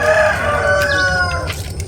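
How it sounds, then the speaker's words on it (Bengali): A rooster in Satjelia village in the Sundarbans gives a single loud, clear crow nearby, its drawn-out call fading away within about two seconds. "শুধু মোরগ ডাকছে"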